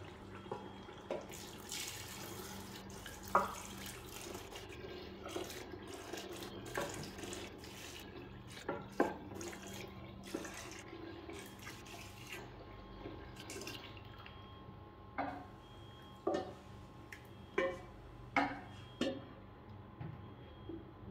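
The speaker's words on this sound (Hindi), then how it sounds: "दोस्तों जो हमने यखनी बचाई हुई थी, जो रखी हुई थी, वो अब हम इसमें डालने लगे हैं।" Saved meat stock (yakhni) poured into a pot of Karachi-style nihari makes a steady, close watery pour with splashes and small clinks throughout, and no one speaks.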